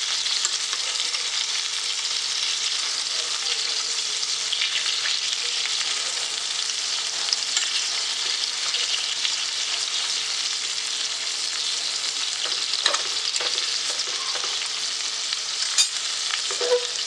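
Mackerel (makla) fish fry on low heat in a pan, a loud, steady crackling sizzle that carries without pause, with a few faint utensil taps late on and no voices.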